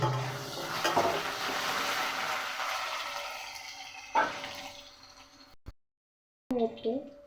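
Potatoes and black cumin dropped into hot oil in a pan, giving a steady sizzle with stirring and clattering, then a louder burst of frying, a brief silence and renewed sizzling near the end.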